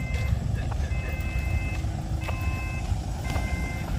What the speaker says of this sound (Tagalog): Ito na yung truck.